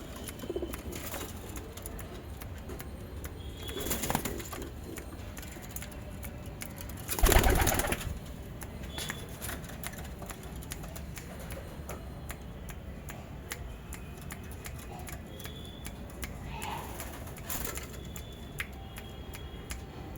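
Pigeons kept as a pair give faint, low coos close by, scattered through a quiet stretch with light rustles and a brief louder bump near the middle.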